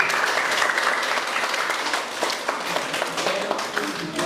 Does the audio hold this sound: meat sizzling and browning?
no